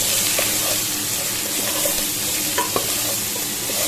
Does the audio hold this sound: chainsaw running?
no